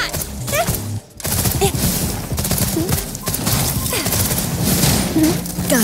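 Video game gunfire rattles off in rapid bursts with sharp impacts during a headshot, loud and dense, over game background sound and a brief pause in the action.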